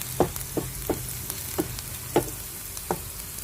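Ginger and onion frying in a pan for a cauliflower soup, with a steady close sizzle and about seven distinct scraping strokes of a spatula spaced roughly half a second apart.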